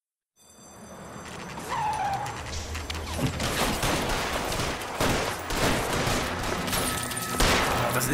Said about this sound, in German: Eine Schießerei nach der anderen.